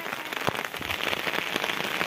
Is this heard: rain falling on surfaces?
yes